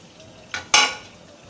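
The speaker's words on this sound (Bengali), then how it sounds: "এবার আমি সবগুলো উপকরণ একসাথে দিয়ে ভালোভাবে মিক্স করে নিব" A spoon scraping and stirring sugar, chili powder and salt into homemade tomato sauce in a pan, two quick close scrapes standing out against a soft background hiss.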